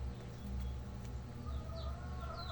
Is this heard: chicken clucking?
yes